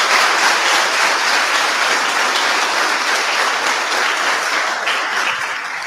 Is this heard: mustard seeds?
no